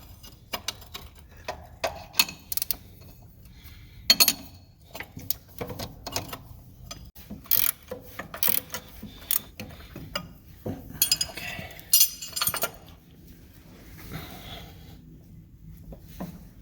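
Socket wrench work loosening bolts on the hydraulic pump of a Case 555D backhoe gives short metallic clicks, ratchet ticks and clinks in irregular bursts, close by, with quiet pauses between.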